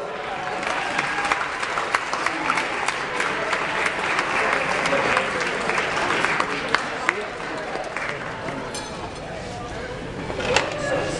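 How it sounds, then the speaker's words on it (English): A warm round of applause from an audience keeps up as a steady wash of clapping for about eleven seconds, with some crowd murmur and voices mixed in. "Let's give them a warm round of applause."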